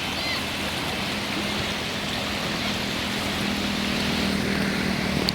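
Water rushes steadily through an irrigation canal in Rajasthan, a dense, continuous roar that stays even and fairly loud throughout with no talk.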